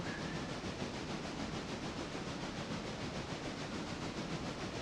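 Steam locomotives run in the video game Railroader, giving a steady rhythmic chuffing and hiss with faint rail clatter, even and continuous throughout, with no one speaking over it.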